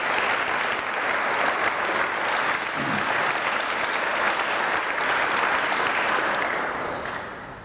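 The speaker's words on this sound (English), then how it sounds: "Father Michael and for Father David, a little round of applause, please, to thank them very much." Church audience applauding two priests at a talk by an archbishop, a steady, dense wash of clapping from a large crowd that holds for several seconds before tapering slightly at the end.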